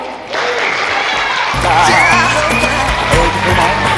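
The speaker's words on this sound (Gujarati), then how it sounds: "ચાલો જોરદાર તાળીઓ" A crowd at a school National Science Day demonstration claps together, a dense burst of applause that starts suddenly and keeps going loudly, with voices and cheering mixed in.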